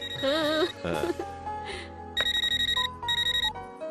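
A telephone rings in a film scene, its bell sounding in repeated rapid bursts after a stretch of background music, loud and close.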